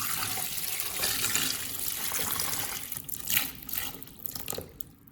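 White radish, a little dark on the outside, rinsed under a running kitchen tap, with a steady stream of water splashing into the sink and a few louder splashes as the vegetable is turned under the flow.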